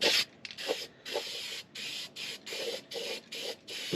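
Rust reformer is sprayed from an aerosol can onto a brake-leak rust patch on a 1981 Mazda 626 in roughly eight short hissing bursts with brief gaps between them, close and clear with no talking.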